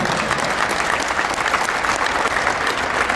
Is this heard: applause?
yes